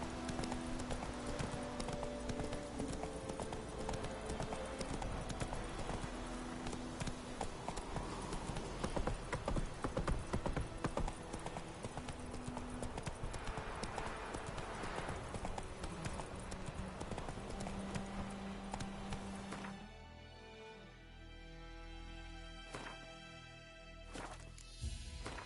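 Steady hoof clip-clop from a horse being ridden in a PS4 video game, continuous and fairly loud over game music, fading to quieter scattered sounds near the end.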